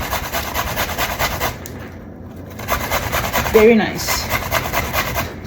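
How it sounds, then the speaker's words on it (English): Vegetables rubbed by hand across a kitchen grater, a rapid rhythmic rasping scrape close up, briefly pausing before resuming, with someone speaking a few words over it. "So I'm going to show you how to grate."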